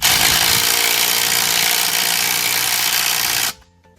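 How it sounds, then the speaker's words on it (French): An impact wrench with a long 17 mm socket drives a nut on a pool structure, a loud continuous buzzing rattle of about three and a half seconds that cuts off abruptly. "je viens mettre un coup sur mon écrou jusqu'à temps que la clé à choc soit en rupture"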